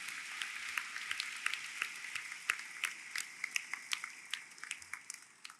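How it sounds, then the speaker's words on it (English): Scattered, fairly thin applause from an audience honoring university faculty and staff at a Welcome Day gathering, with distinct individual claps popping out of a soft crowd wash and tapering off toward the end. "so we can give them a round of applause."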